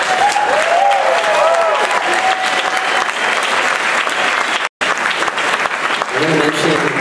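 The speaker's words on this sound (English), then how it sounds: "So please give them a round of applause." A crowd at an evening benefit show claps warmly for volunteers, a dense, fairly loud wash of applause with a whoop and some voices mixed in, cut by a brief dropout and easing near the end as talk begins.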